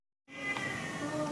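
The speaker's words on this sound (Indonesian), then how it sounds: "itu kucing aku berisik banget di situ" Pet cat meowing loudly nearby, one drawn-out cry starting after a brief silence and carrying to the end.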